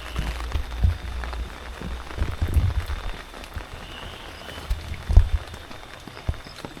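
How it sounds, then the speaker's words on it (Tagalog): Rain patters steadily on nearby surfaces in Banaue, Ifugao, with occasional heavier drops and thuds, a soft continuous wash of sound with no voices. "Umuulan ngayon eh."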